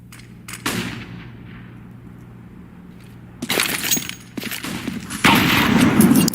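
Counter-Strike match on Overpass: rifle shots and a grenade blast crack out in sharp bursts, with a quiet gap in between, then dense gunfire and explosive noise build loudly toward the end.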